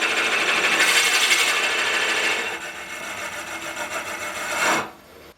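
A drill bit bores into a spinning wooden pepper mill blank on a wood lathe, a loud, steady rasping grind that eases midway, swells again, then cuts off as the bit is withdrawn.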